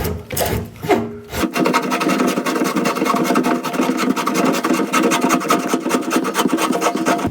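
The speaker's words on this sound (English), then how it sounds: "I guess I can start by trying to take the lens off." Threads of a big lens rasp and rub continuously as it is unscrewed from a video projector used in brain research, a steady near scraping grind after a few brief handling knocks at the start.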